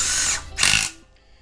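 Two short bursts from a power tool run down oil pan bolts on an LS7 engine going into a 1970 Camaro, close and brisk, the second burst ending abruptly.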